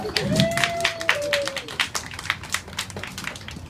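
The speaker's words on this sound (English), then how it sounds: "And clapped some more." A group clapping at a children's play, a rapid run of sharp broadband claps over about three seconds, moderately loud, with a voice audible near the start.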